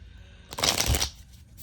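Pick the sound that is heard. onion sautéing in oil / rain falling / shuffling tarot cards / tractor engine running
shuffling tarot cards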